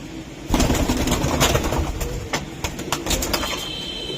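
Racing pigeons flutter and shuffle close by, with bursts of wing flapping and scratchy movement over a dense, busy background, alone without voices.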